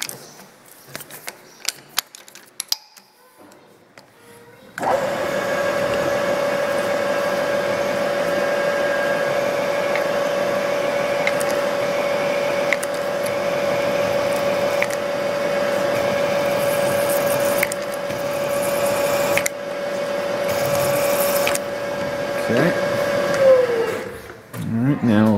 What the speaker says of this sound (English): we'll hit it with this spotting drill here, and we'll get a good heavy-duty starting point for a drill